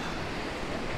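Ocean surf at the Mauna Kea Beach Hotel in Hawaii, heard from a seaside rotunda as a steady broadband wash of waves mixed with wind rumbling on the microphone, loud and continuous without speech.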